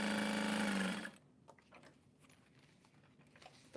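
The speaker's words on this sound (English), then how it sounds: "I'm just going to sew all the way around" A sewing machine stitches around the edge of a tote bag in a loud, close burst of about a second, then stops, leaving quiet handling and faint rustling.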